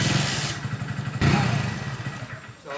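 A motorcycle being kick-started on a cold morning catches and runs, giving a steady, close, throbbing engine rumble with clattery mechanical noise and a brief dip near the end, without talking.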